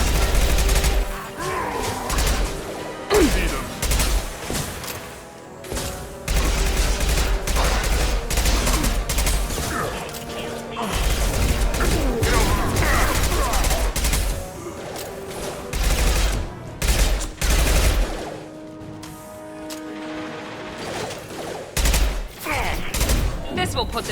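Dense volleys of gunfire rattle through a Mass Effect 2 combat scene in rapid, uneven bursts. They are loud and continuous with short breaks, and faint voices sound now and then.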